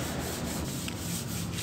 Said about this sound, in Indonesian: Kita amplas semua bagian yang sudah kita top coat clear tahap pertama tadi sampai benar-benar halus